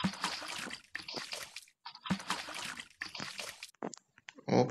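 Toilet flush in the Pikabuu video game, heard as rushing, sloshing water in several surging bursts with short gaps, ending in a louder gurgling splash.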